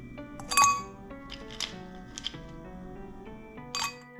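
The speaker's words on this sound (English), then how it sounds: "Next, you can add some ice cubes according to your preference." Ice cubes drop into a drinking glass for a blueberry drink, giving a few bright clinks and a rattle, close and clear over soft background music.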